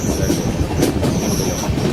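A train on the Konkan route rumbles through a tunnel in Karnataka, a dense, loud, steady roar of wheels with faint squealing tones above it, heard from onboard.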